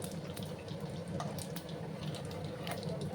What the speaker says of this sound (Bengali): তেলটা গরম হয়ে গেছে, একটা শুকনো লঙ্কা দিলাম, হাফ শুকনো মতো গোটা জিরে দিলাম